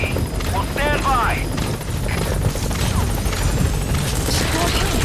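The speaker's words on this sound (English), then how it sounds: "Support helicopter has arrived." Support helicopter arriving at a landing zone in Metal Gear Solid V: The Phantom Pain, a loud, steady rotor thrum filling the scene under short radio voice lines and scattered game effects.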